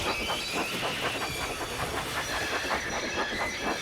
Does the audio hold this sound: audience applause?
no